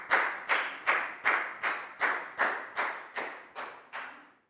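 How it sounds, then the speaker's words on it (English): A single person claps slowly and evenly in a classroom, about ten separate claps at a steady rhythm, close and fairly quiet, with no voices. "Big round of applause for Bangpon too, guys."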